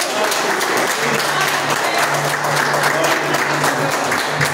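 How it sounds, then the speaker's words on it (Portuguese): A church congregation breaks into steady, dense applause that fills the room and holds at an even, loud level throughout, with a faint murmur of voices underneath. "A senhora agradece a oportunidade e as palmas logo agradecem."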